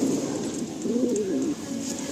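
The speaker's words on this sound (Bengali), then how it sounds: "নর পায়রা তাই তো?" A male pigeon of a pulsar breed coos in a low, rolling series of soft phrases, close and steady against faint background hiss.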